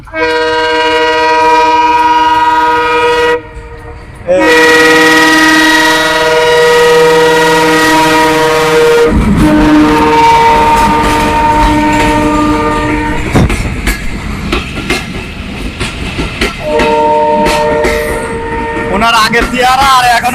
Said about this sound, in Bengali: ট্রেন আইতেছে সরো ভাই যান যান ট্রেন আইতেছে